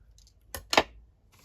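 Scissors cut paper for a junk journal in two quick, close snips, the second crisper and louder, set against near silence.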